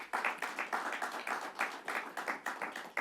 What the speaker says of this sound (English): Mayor Brown, let's give him another round of applause.